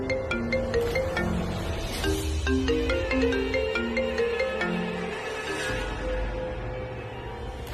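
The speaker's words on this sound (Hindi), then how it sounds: "अभी ये वो रिंगटोन नहीं है।" A mobile phone plays a melodic ringtone, a bright tune of stepped notes sounding fairly close and loud, continuing steadily over a low background rumble.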